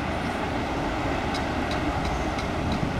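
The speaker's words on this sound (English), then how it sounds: "The first train was CSX" A CSX freight train rumbles past close by, a steady broadband roar with rhythmic clicks of wheels over rail joints, and no voices.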